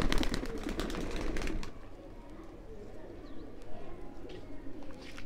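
Kasuri golden pigeons for sale in Jammu coo softly and steadily, the low murmuring calls running under a voice talking over them nearby, louder at the start and then settling into a quieter continuous background.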